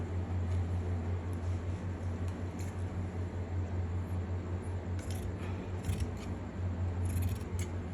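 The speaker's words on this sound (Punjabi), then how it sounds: "ਮੋਢਾ ਕੱਟ ਕੇ ਹੁਣ ਆਪਾਂ ਇਹਦਾ ਪਹਿਲਾਂ ਕਟਿੰਗ ਕਰਾਂਗੇ ਮੋਢਾ" Scissors cutting through fabric at the shoulder of a garment for a co-ord set, a series of quick, light snips over a steady low background hum, close by with no talking.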